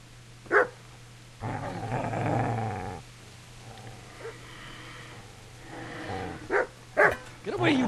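A dog in the medieval game Kingdom Come Deliverance barks in sharp bursts and growls in a longer rumbling stretch, loud and close, with a voice speaking between the sounds.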